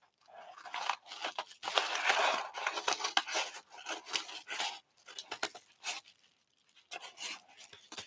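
Paper for an art journal page is cut nearby with scissors, a run of crisp snipping and crinkling strokes in irregular bursts, fairly quiet, with no one talking.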